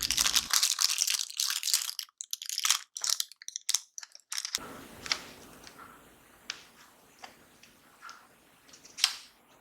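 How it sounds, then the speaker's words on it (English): Parchment paper crinkles and crunches as it is pressed into small muffin tins for mini Basque burnt cheesecakes, loud dense rustling at first, then softer scattered crackles and taps, with no talking. "Line each of these muffin tins with parchment paper and then pour in our batter."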